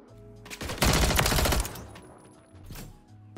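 Striker 9 SMG fire in a video game: a loud, dense burst of rapid automatic shots lasting under a second, then trailing echoes and a second, shorter burst near the end.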